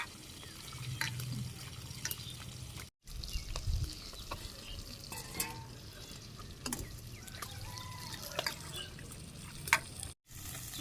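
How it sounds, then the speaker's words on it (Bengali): Cut taro is washed by hand with salt in water at a village kitchen. Continuous close sloshing, splashing and pouring goes on throughout, with brief gaps and a faint voice now and then. "এগুলো তো একটু পিছলে হয়, সেই জন্য আমি একটু ভালো করে ধুইতে লবণ দিয়ে ভালো করে ধুয়ে নিই।"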